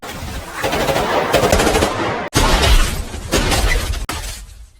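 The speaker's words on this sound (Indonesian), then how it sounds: "Di dalam hutan, John dan Red masih terlibat baku tembak dengan dua polisi yang terus memburu mereka." Rapid gunfire rings out in a forest shootout between robbers and police from the 2009 film Public Enemies, with loud bursts of automatic fire broken by short pauses.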